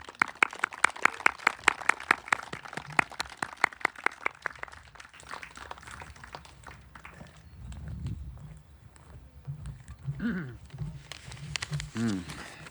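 An audience gives a round of applause welcoming a speaker at a Martin Luther King Jr. Day of Service gathering at the Homeless Garden Project, crisp claps fading over several seconds before voices take over.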